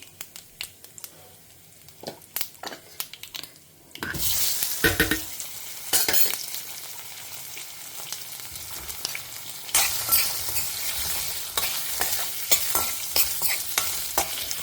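Spices such as asafoetida, chilli powder and turmeric roast in hot oil in a pan, a steady frying sizzle broken by repeated stirring scrapes and clinks of a spoon, close and fairly loud, with no one speaking.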